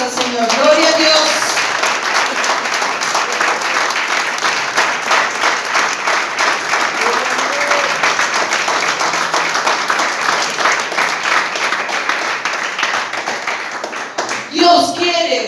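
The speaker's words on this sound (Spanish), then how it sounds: "denle un aplauso al Señor" A church congregation applauds its Lord, sustained loud clapping from a crowd filling the room, with voices mixed in and a brief voice at the start and end.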